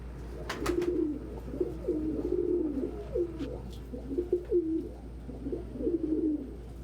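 Pigeons coo repeatedly in soft, rolling phrases, fairly close, over a low steady background hum.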